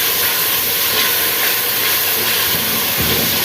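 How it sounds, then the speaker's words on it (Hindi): Spices sizzling in oil in a pan for a traditional Pakistani potato and green peas curry, a steady loud hiss and crackle running continuously throughout. "हमको मसाले का पता चले कि मसाले की आवाज़ किस तरह आ रही।"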